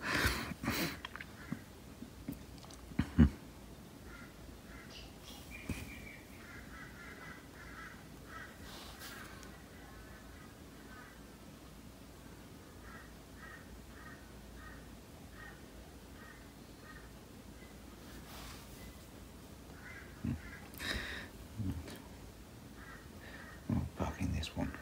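Magpies and a kookaburra squawk and fight in a rhythmic run of harsh, repeated cawing calls at moderate distance, with a few louder knocks and a voice speaking nearby.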